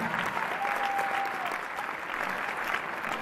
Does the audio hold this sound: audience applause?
yes